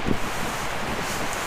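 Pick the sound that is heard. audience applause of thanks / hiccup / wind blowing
wind blowing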